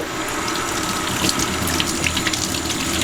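A kitchen tap runs steadily while eggs are rinsed clean under it, giving a continuous gushing splash with slight clatter, close and even throughout.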